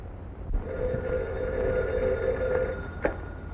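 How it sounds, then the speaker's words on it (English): An old telephone from a 1934 mystery film rings in a steady sustained buzzing tone over a noisy, hissy soundtrack, heard alone without talk. "Telephone. Telephone."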